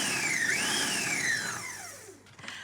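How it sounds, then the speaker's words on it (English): A food processor whirs on a single pulse through dry baking ingredients for an apple upside-down cake, its motor pitch rising then sliding down as it spins out and stops. "we're going to place the lid on and just pulse it 2 or 3 times just to combine the dry"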